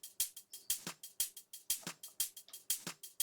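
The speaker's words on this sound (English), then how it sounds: "the second one is a loop, just a tops loop, which sounds like this on its own" A drum tops loop from a recreation of a track: crisp hi-hats and percussive ticks in a steady swung pattern, repeating evenly and heard alone.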